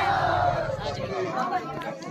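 Crowd chatter at a Khatu Shyam Nishan Yatra procession, with women carrying flags toward the temple in Julana; a dense, close babble of many voices, with one voice talking over it.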